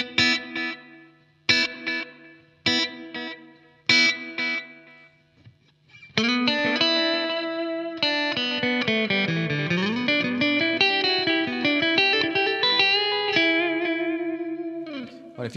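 Electric guitar through the delay on a Blackstar AMPED floorboard amp: a few staccato chord stabs with trailing repeats, then a sustained distorted run of notes with bends ringing into layered echoes, close and loud without speech.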